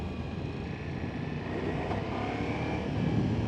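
A 2024 Ducati Multistrada Rally motorcycle engine drones steadily in urban mode while riding, with smooth, gentle throttle under heavy rumbling wind noise. The sound stays continuous and fairly loud throughout, with no talk.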